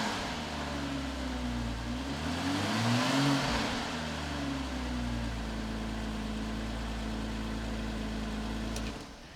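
The cold engine of a 2008 Porsche Cayman 987 is revved up to about 3,000 RPM, swelling smoothly from idle and falling back to a steady idle before cutting off near the end.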